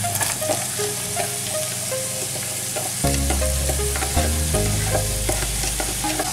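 Onions and bacon frying and being stirred in a pan, a steady close sizzle broken by scraping stir strokes, getting louder and busier partway through as the onions go in.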